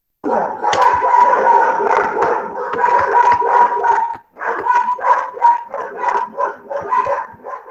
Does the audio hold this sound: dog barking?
yes